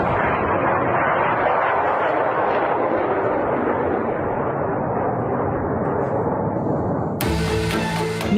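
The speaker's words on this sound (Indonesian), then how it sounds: "misil pencegat serangan udara Iran gagal dibendung Israel sehingga menghantam dan merusak targetnya" An Iranian missile strikes its target in Israel, producing a loud, sustained rumbling roar of blast noise that fills the whole stretch before cutting abruptly near the end.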